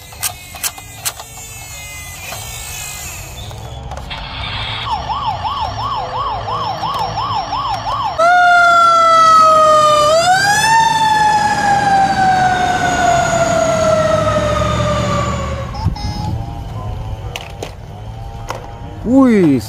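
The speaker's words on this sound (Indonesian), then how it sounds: "Mobil pemadam kebakaran." A toy fire truck siren wails loudly in close, steady electronic tones, shifting from a rapid warble to a long rising-and-falling sweep that fills most of the recording, with a few clicks at the start and end.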